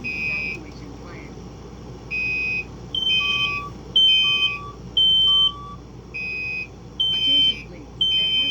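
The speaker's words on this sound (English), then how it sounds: "here goes the smoke detector again." A building smoke detector sounds repeated loud electronic beeps in bursts of varying pitch, with emergency evacuation announcements and talk beneath.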